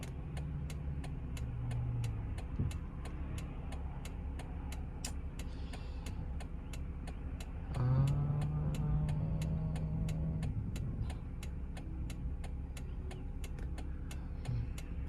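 Inside a 2004 Chrysler 300M in rush-hour traffic, a steady low engine and road hum fills the cabin, with a regular ticking click repeating throughout and a brief swell in engine noise partway through.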